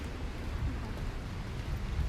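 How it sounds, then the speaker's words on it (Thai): Heavy rain pours down in a steady, dense hiss with a low rumble underneath, heard outdoors near a condo building, with no speech. "นี่ฝนเริ่มฝนตกหนักแล้วกำลังจะขึ้นลิฟต์กันนะคะทุกคน"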